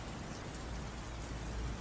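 Steady storm rain from an audio drama pours as a dense, even hiss with a low rumble beneath, alone and moderately quiet throughout.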